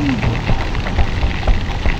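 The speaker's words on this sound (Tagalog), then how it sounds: "So ayan, umuulan." Rain falling steadily during a wet-road test of a Beast Flash motorcycle tire, a continuous hiss of drops close by with a low engine-like rumble underneath and no clear talk.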